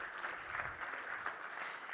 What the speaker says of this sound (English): May I request for another round of applause